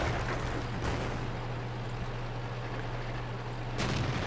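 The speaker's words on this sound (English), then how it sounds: "now I'm just gonna fire on everything that I see" Tank cannon fire in the World of Tanks game from a Tiger (P) tier 7 heavy tank: two booming shots, one near the start and one near the end, over a continuous low engine hum.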